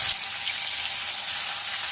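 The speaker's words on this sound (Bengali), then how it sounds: "এইবার এগুলোকে গরম তেলে ভেজে নেব।" Stuffed ash gourd pieces fry in hot oil, giving a steady, close sizzle that stays even from start to finish.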